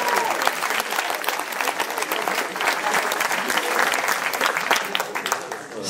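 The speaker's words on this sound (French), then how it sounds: "on va l'applaudir malgré son absence" Audience applause at a French speaking contest award ceremony, greeting the fifth prize winner: dense, steady clapping from a crowd, sustained and fairly loud throughout.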